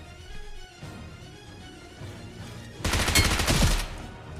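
Gunfire in the mobile battle royale game BGMI, quiet game ambience followed by a loud burst of rapid shots lasting about a second, no voices.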